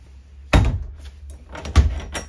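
A bunk room door in a 2013 Open Range 305 BH travel trailer opens with a sharp latch click and a thump, followed by a second knock-like thud about a second later, close and loud.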